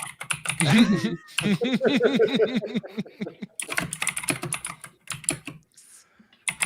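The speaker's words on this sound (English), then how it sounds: "The loudest mechanical keyboard ever." Rapid clattering keystrokes on a loud mechanical keyboard, bursts of typing that come and go over several seconds, heard up close alongside intermittent talk.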